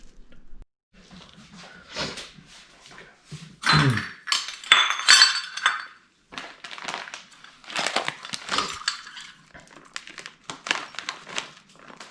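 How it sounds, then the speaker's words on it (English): Dried onions and cayenne pepper rub being mixed in a bowl for pork butt, heard as scattered clinks and crunchy, crinkly rustles of varying loudness, with a louder burst of scraping and clatter midway. "We're gonna mix this all together and rub this pork butt all down."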